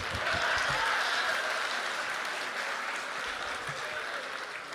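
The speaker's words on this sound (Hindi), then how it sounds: "अब जब मैं आई हूं तो एक बार जोरदार तालियां तो बजा दें।" Applause from the audience at an international mushaira and kavi sammelan poetry gathering in Bahrain, a fairly soft but steady wash of clapping. It fades slightly toward the end.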